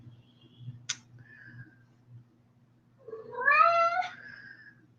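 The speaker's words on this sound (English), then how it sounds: "Sorry if you can hear this cat crying in the background." A cat cries and meows in the background, a short faint call followed by a louder drawn-out wavering meow, with no talk over it.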